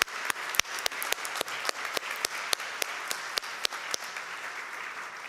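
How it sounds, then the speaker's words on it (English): Audience applause at a university campaign launch event at IIT, steady dense clapping from a crowd lasting throughout, moderately loud and even with no voices on top. "So a round of applause for Wendorf."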